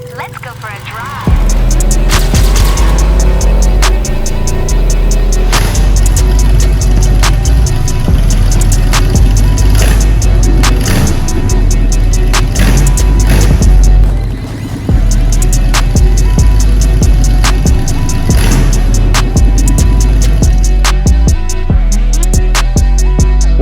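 A 1924 Dodge Brothers hot rod drives along, its engine throbbing loudly and steadily under a busy spread of rattles, clicks and road noise, with a brief dip partway through.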